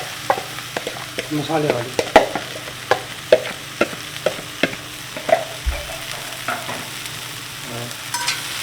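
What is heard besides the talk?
spiced okra frying and being stirred in a cast iron kadai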